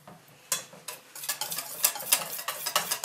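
Chocolate cake batter with vegetable oil mixed in a bowl, a run of soft, quick scraping and swishing strokes that start faint and grow busier and louder, close by with no voices.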